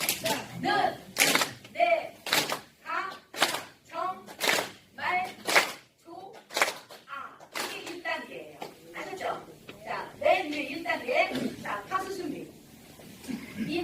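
Sharp, loud hand claps, one after each word a voice calls out, in a laughter therapy self-esteem clapping exercise; speech fills the gaps between claps.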